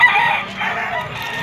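A rooster crows at a busy Malabon street market, the call steady and fairly loud over a constant crowd murmur.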